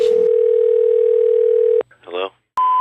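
A steady telephone dial tone hums loudly for nearly two seconds, then cuts off, followed by a short burst of a voice and a brief return of a higher tone at the end.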